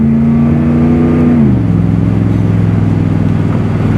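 A car engine revving hard on an uphill climb, a loud close drone that holds steady, then drops in pitch as it shifts and keeps pulling under load.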